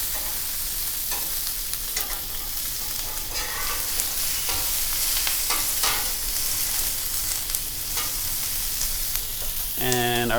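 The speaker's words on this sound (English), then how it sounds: "Move our veggies around a bit." Vegetables stirred and shuffled in a frying pan, a steady sizzle with scattered scraping strokes throughout and a brief clatter near the end, no talk.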